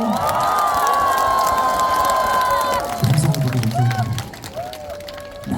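A large outdoor crowd at a seaside festival concert in Ulsan cheers and applauds, a dense sustained roar with shouts over a musical tone, then thinning into scattered claps and calls.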